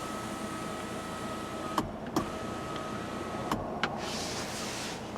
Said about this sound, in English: Now the sunroof does vent up and go all the way back, like so.